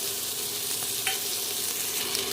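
Green chili and mustard paste go into pointed gourd frying in a pan, a loud continuous close sizzle with a few small pops and clicks, and no voices.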